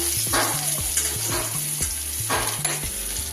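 Onions sizzle in a pan while being stirred, a steady close frying hiss broken by repeated scraping strokes of a utensil against the pan, with no speech.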